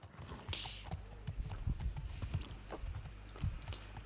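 Horse hooves in the video game The Last of Us Part II clop steadily at a walking pace, close and fairly loud, with a brief whinny-like sound near the start.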